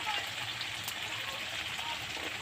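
Pangas fish curry with turmeric sautéing in a pan, giving a steady broadband sizzle that runs unbroken and fairly close throughout.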